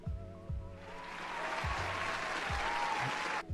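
Applause from a played sound clip swells up after a few dull knocks and carries on as a steady clatter of clapping before it stops abruptly.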